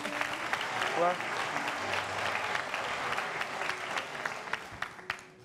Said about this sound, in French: Je pense que ça s'applaudit s'il vous plaît les amis